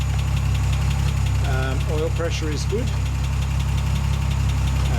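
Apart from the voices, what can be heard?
Austin Healey 100/6 engine idling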